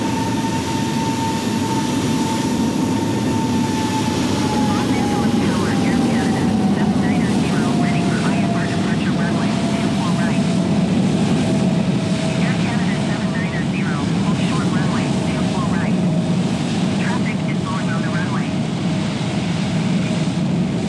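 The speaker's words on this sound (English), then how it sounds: "Airplane on short final, 25 left. American Airbus A321, it appears." Simulated jet noise of an American Airlines Airbus A321 on short final to runway 25L at Los Angeles International Airport in Microsoft Flight Simulator 2020, a steady loud roar with a slowly falling whine, under occasional talk.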